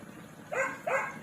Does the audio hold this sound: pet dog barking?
yes